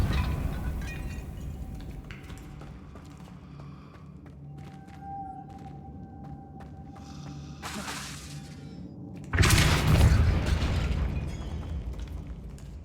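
The Depulso spell cast in Hogwarts Legacy, a sudden loud blast-like burst that pops out of quieter game ambience and then fades over a few seconds.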